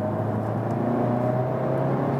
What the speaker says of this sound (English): Nice acceleration also uphill.